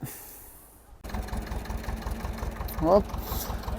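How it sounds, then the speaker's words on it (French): A tractor engine pulling a harrow across a field in Poland kicks in suddenly and keeps up a steady mid-pitched drone, with people talking over it. "les voisins viennent d'arriver avec le tracteur. Ils sont en train de passer la herse."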